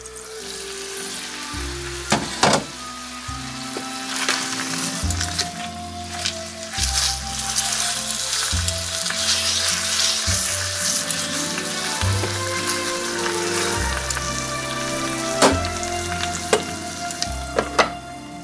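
Continuous sizzling of meat frying in a hot pan, with occasional clicks and scraping sounds over a low background hum.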